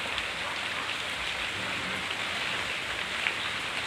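Steady, even rain falls and patters on surfaces all around, a continuous hiss at moderate loudness with no voices.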